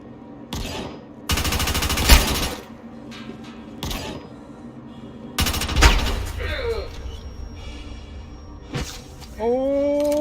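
Gunfire in a space sim shooter game, several loud bursts of rapid shots separated by quieter gaps, with a player talking over the action and electronic game sounds.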